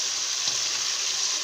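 Chopped tomatoes with turmeric, salt and chili go into onions frying in a pan for a bitter gourd dish, giving a loud, even, close hiss that stays constant throughout.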